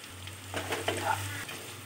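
Onion, tomato and salt sauté in a pan for a banana roast, giving a faint, brief sizzle with a few soft scraping stirs under a low steady hum.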